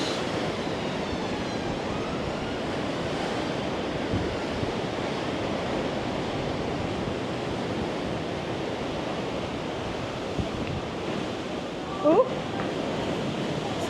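Heavy waves crash and strong wind rushes continuously at a seaside pier, a dense, loud, unbroken roar with a brief exclamation from a person near the end.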